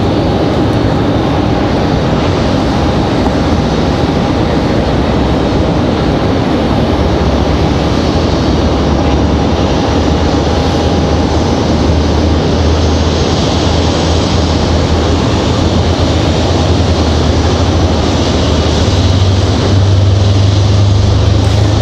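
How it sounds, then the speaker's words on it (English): Republic Airways Embraer E175 jet departing Raleigh-Durham for JFK, a loud continuous engine roar with deep low rumble sustained for over twenty seconds, alone without voices. "So that E175 departure a moment ago, that was Republic Airways 4765 off to JFK"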